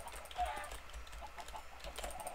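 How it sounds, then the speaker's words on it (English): Chickens clucking in the block-building video game Minecraft on a modded server, a cluster of short bird calls at moderate distance, steady and fairly loud with scattered clucks and faint clicking throughout. "Oh, there are a lot of chickens."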